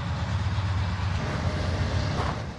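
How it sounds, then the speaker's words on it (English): A train rolls past at close range, a steady loud rumble with low clattering that holds for the whole stretch, near a grave site, with no talk over it. "we're going to let the train go by"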